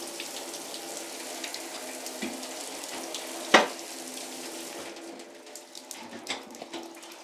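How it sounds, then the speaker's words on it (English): Water streams steadily from shower heads in a bathroom, a constant hissing spray with a brief clunk midway, then the flow eases and sounds thinner toward the end. "So both shower heads work."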